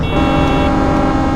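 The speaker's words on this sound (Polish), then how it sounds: "Ja mam głośniejszy niż wy klakson." A bus horn in the Bus Driver driving video game: one loud, sustained electronic honk holding a steady buzzing tone throughout, close and prominent, with no speech over it.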